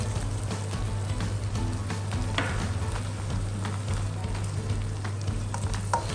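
Stink beans stir-fried with shrimp and red chili in a hot pan, a steady crackling sizzle with scraping stir strokes throughout, close and fairly loud.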